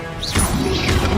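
The Protego shield spell in Hogwarts Legacy, cast in a magical duel, gives a short bright crash with a rising shimmer, followed by a loud sustained impact that holds through the rest of the second, with no talk.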